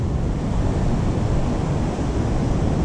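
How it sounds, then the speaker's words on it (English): Cold ocean surf rolls onto a winter beach as the tide comes in, a loud, continuous wash of breaking waves mixed with wind buffeting the microphone, with no talk. "Water's cold. Tide's coming in."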